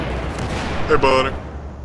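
Gunfire in the video game Battlefield 4, with a short burst of shots during close-quarters fighting on Operation Locker, heard over steady background game noise and chatter.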